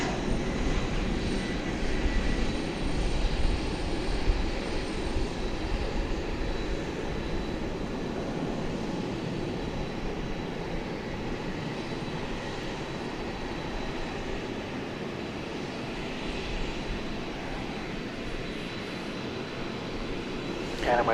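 Jet aircraft on the ground at DFW Airport at night, heard from Founders Plaza beside the runway: a steady, broad engine roar that holds loud and even for the whole stretch, with no talk over it.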